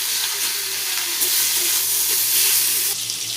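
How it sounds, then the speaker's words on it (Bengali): Bottle gourd leaves fry in hot oil with green chillies and garlic, a loud, continuous sizzle with occasional stirring scrapes close by and no talking. "এবার ভালো করে ভেজে নেব।"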